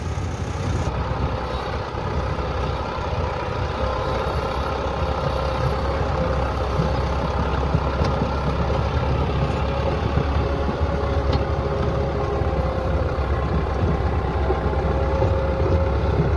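A Massey Ferguson 385 tractor engine runs steadily in first high gear, likely with a 72 cutter rotavator attached, giving a continuous, loud low-pitched diesel drone with no talk over it.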